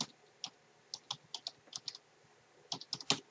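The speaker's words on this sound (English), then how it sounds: "So I need to type that in." Someone types a server address on a computer keyboard, with irregular bursts of close, crisp key clicks separated by short pauses and no speech.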